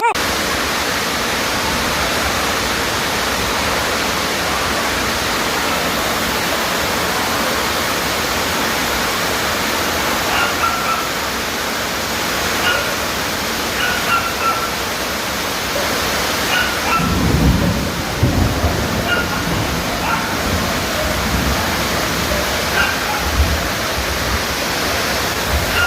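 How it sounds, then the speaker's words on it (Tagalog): Heavy rain pours down hard on a hut roof, a loud continuous wash of noise with some thuds and faint voices and music beneath it. "lakas ang ulan"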